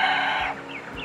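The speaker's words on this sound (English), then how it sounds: "my rooster's crowing behind you guys" A backyard rooster in a home garden lets out a crow, its strained call loudest at the start and fading within about a second, heard at moderate distance.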